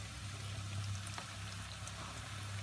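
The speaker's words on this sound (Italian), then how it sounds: "Praticamente si friggono così da sole." Bignè di San Giuseppe choux pastries fry in medium-hot oil, a quiet, steady sizzle and bubbling with a low hum beneath it and no talking.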